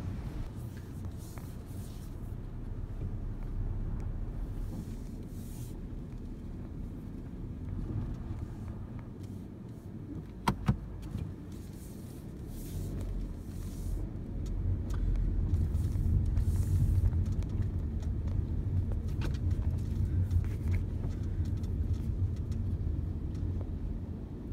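A car fitted with an over-ring hand-control accelerator driving gently: a low, steady engine and road rumble with some wind noise throughout, moderate and continuous, growing slightly heavier toward the end, with a brief click partway through.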